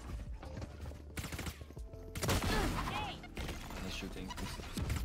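Enemy gunfire in Valorant, sharp bursts of shots in clusters with brief quieter gaps, fairly close, under a voice talking.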